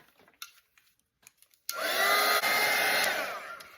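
Hair dryer drying a watercolour painting: a few soft taps and handling sounds, then the dryer switches on abruptly with a loud, steady rushing whir that holds for a couple of seconds before easing slightly.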